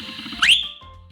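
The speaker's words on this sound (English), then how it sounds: "I'm going to show you how to whistle really loudly." A single loud finger whistle, made with thumb and index finger, rises sharply in pitch then holds a steady piercing tone for under a second, standing out clearly against quiet room background.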